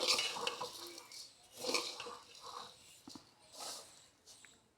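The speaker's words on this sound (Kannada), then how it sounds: "ಮೊದಲಿಗೆ ಶಾವಿಗೆಯನ್ನು ತಗೊಂಡು ಹೀಗೆ ಸ್ವಲ್ಪ ರೋಸ್ಟ್ ಮಾಡ್ಕೊಳ್ಬೇಕು" Vermicelli is roasted dry in a pan while a metal spoon stirs it, making soft, irregular scraping and clinking strokes that come close together and then fade, with quiet pauses between them.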